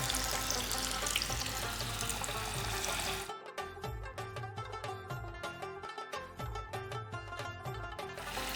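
Fish pakora frying in a kadai, a dense rushing hiss of bubbling oil that drops to a quieter, uneven crackle with scattered pops partway through.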